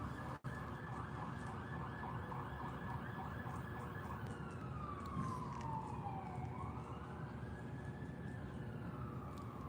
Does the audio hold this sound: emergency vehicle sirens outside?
yes